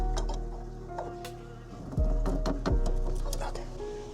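A ratchet tightens a coilover on a Mitsubishi EVO 8, with light mechanical clicks and two sharper, louder clacks partway through, close by in a quiet workspace.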